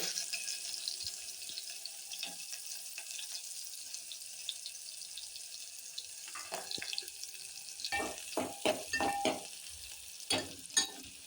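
Onion frying with a pinch of asafoetida, a faint steady sizzle that turns into a cluster of clattering utensil stirs and scrapes in the pan toward the end.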